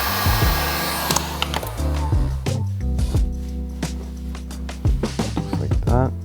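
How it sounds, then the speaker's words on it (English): A heat gun blows with a steady airy roar while sealing the edge of PPF protective film on a 2020 Chevy Corvette, punctuated by handling clicks and bumps, with talk over it. "let your edges dry up a bit so we can hit it with the heat gun later and seal it completely"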